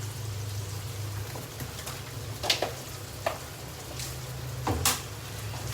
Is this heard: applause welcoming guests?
no